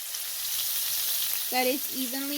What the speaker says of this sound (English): try to slowly break up the chorizo in parts and little pieces